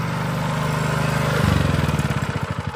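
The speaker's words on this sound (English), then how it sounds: "Got this engine from not running to running." Small engine running after a carburetor clean, a loud close steady putter that shifts partway through into a rougher, throbbing pulse, with no voices over it.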